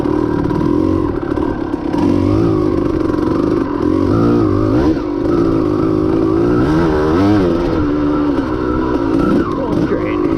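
Engine of a 1992 Kawasaki KDX200 dirt bike lugging at low revs while ridden, a steady loud throbbing with slight rises and dips in pitch, continuous for the whole stretch with no talk.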